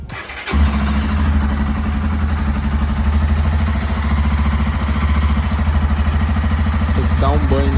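A Honda XRE 300 motorcycle, left unstarted for four days, cranks and catches within the first second, then settles into a loud, close, steady idle with a low, even throb as a voice talks.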